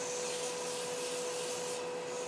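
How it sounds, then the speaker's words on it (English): Steady, continuous abrasive rubbing of coarse sandpaper against wood spinning on a lathe, a constant gritty hiss with no pauses, close and fairly loud. "I'm going to do a little bit of sanding"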